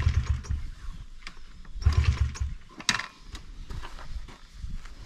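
A brand new Honda 50cc engine is cranked with no throttle, giving two or three short, low sputtering bursts that fail to catch, near and moderately loud, separated by quieter gaps.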